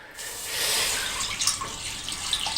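Milk and cream pour into a pot on a stove set to medium-high heat, a continuous close liquid stream with a bright splashing hiss that swells at the start and then trickles on unevenly.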